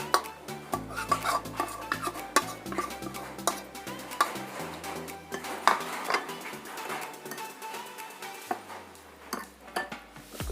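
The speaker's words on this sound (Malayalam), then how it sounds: "അപ്പോൾ നമുക്കിനി ഈ മസാല അങ്ങോട്ട് ചേർത്ത് കൊടുത്തൊന്ന് നന്നായിട്ട് കുഴച്ചെടുക്കാം" Masala being worked into raw pork by hand for a spicy chilli pork fry: close, irregular squelching and rubbing with frequent clinks and knocks against a metal bowl throughout.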